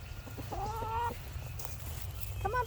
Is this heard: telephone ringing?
no